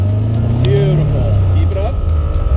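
A car engine rises gently under a small touch of throttle during a driving lesson, a low steady hum that swells slightly, with an instructor talking over it.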